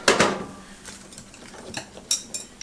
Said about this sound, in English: I just use the same chopsticks I'm gonna eat with to stir it up